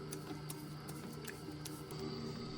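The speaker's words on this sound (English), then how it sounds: "I'm going to mix this with my Hobart for a couple of minutes" Steady mechanical drone of a Hobart stand mixer kneading purple sweet potato sourdough dough, a continuous low hum with a faint regular ticking, heard alone at moderate volume.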